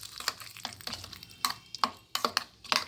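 Spoon stirring a tempering into a tomato and coriander chutney, giving a few distinct scraping clinks against the bowl in an irregular rhythm, close and moderately quiet.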